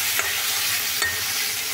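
Potatoes and carrots fry in a covered pan for a Bengali shukto, giving a steady close sizzle with two soft scraping stirs.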